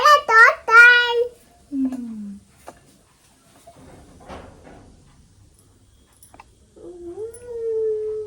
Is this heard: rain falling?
no